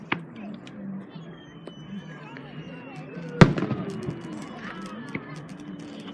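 Fourth of July fireworks burst outdoors, with one loud, sharp bang midway followed by crackling and a couple of softer pops, while people chatter and murmur in the background throughout.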